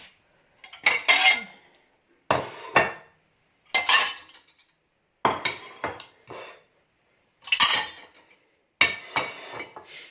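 Dishes clink and clatter in repeated short bursts with brief pauses between, plates and cutlery being taken out of a dishwasher up close.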